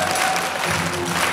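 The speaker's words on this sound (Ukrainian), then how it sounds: "Давайте встретим его аплодисментами." Studio audience at a live improv comedy show breaks into dense, loud applause to welcome the first guest, a steady wash of clapping through the whole moment.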